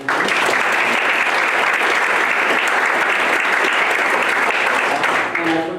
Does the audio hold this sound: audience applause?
yes